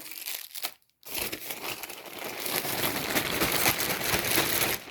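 Loud, close plastic bag crinkling and rustling continues for several seconds after a brief pause, handled vigorously.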